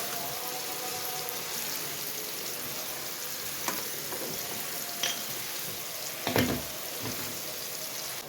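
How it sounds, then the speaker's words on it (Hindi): Chopped tomatoes tipped into a pan of chillies and meat frying for karela gosht, a loud, steady close sizzle with a few stirring scrapes and a bump as they land, with no talk over it. "तो अब शामिल करूँगी मैं टमाटर"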